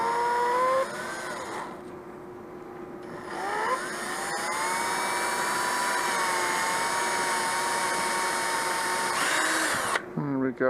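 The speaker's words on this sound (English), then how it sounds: "we can actually just drill right through this here" A power drill whines steadily as it bores through a screen door, its pitch dipping and climbing under load, then cuts off abruptly at the end.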